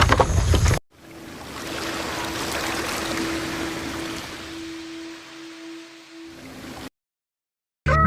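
A boat travelling on the river in Rangamati, with a steady engine drone and rushing water that fade out into silence near the end.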